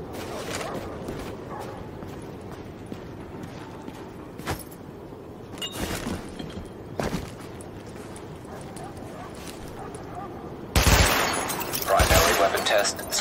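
Gunfire at highlighted targets during a weapon test in Tom Clancy's The Division: scattered sharp shots through the first part, then a louder, denser burst of firing near the end, with game voice and background noise throughout.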